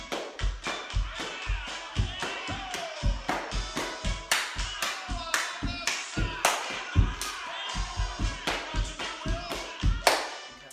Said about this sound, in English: Okay, so you just did step, clap.